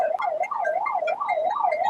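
An ambulance siren wails in steady rising and falling sweeps through traffic in Karimnagar, loud and fairly close, with no voices over it.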